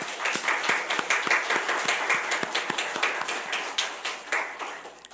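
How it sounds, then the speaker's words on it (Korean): Members of a Korean church congregation clap for one another during a Sunday worship service. Sharp, distinct claps come in a quick, uneven patter that stays fairly loud and close throughout. "우리 감사의 박수 서로에게 한번 주겠습니다."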